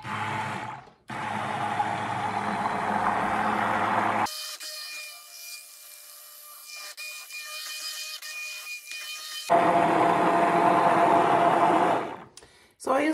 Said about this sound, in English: Then I just start mixing with the hand blender just on the low setting.